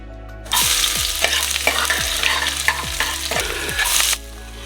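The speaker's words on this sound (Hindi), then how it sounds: "तो दाल को तड़का आपके सामने लगा रही हूँ" Dal is tempered in a pan with cumin, garlic, onion and tomato, a close, loud sizzle that starts suddenly and carries on with repeated stirring scrapes before cutting off.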